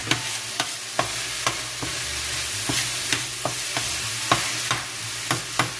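Ground brisket fries in a pan with a steady close sizzle, broken by regular sharp scrapes and clacks of a utensil stirring the meat about once per second.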